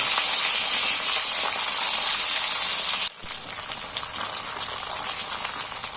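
Broad beans (sim) frying in hot oil in a pan give a loud, steady hiss and crackle. The sizzle drops abruptly midway and then continues at a slightly lower level.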